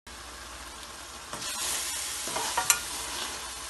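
Qeema aloo, minced meat with potatoes and tomatoes, simmers on a medium flame in a pan. A steady soft sizzle is broken by brief stirring scrapes, heard close and alone.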